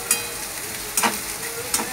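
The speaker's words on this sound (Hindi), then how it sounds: "प्याज को अच्छे से ब्राउन होने दीजिए," Onions browning in a pan for batata wada, a soft steady sizzle with three brief scraping stirs spaced across the short clip, close and moderately quiet.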